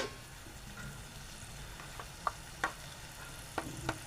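Onion sautéing with turmeric in a pan for a Marathi mushroom dish, a quiet steady sizzle with occasional light scrapes and taps of a spoon, no talk.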